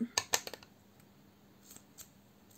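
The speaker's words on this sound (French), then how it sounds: "mes ciseaux que je ne garde que pour découper mon double face" Scissors snip through double-sided tape with two or three crisp, close cuts at the start, followed by a few quieter clicks of the blades in a quiet room.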